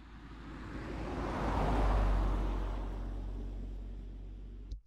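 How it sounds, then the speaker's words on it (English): A car sound-effect sample, not a yellow cab, plays as a steady roadway rumble that swells toward the middle and then eases off, with no talking over it. "let me just play you this car sample"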